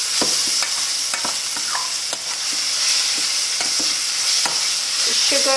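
Sugar being stirred into onion sambol frying in a pan, a steady bright sizzle with repeated scraping spoon strokes throughout, close and fairly loud, no talking.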